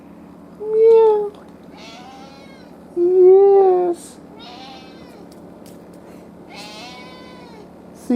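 A pet cat that has been out in 97–100 degree heat meows several times, loud and close, the calls rising and falling, while a person speaks softly between them.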